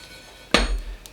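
Whole spices dropped into a stone pestle and mortar for saag aloo land with a single sharp clattering knock, followed by a brief rattle and a faint later tap, close and alone.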